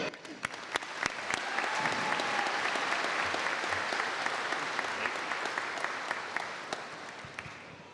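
Audience applause welcoming commencement speaker Dr. Charles Welch, a steady wash of many hands clapping that swells after the first second and holds evenly, then thins slightly toward the end.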